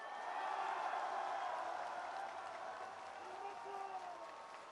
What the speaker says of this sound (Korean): 힘찬 박수로 보내주십시다